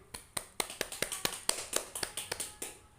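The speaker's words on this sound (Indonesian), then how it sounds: "beri tepuk tangan buat temannya" Pupils in a classroom clap for a classmate, a quiet, quick and even run of hand claps from a small group, fairly close and heard on its own.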